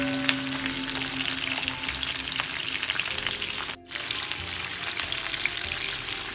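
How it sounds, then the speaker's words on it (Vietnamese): Pork small intestine and blood sausage sizzle in hot oil in a pan, a dense, steady crackling fry with occasional stirring, briefly dropping out once. "bây giờ các bạn chiên cỡ này là được rồi nha"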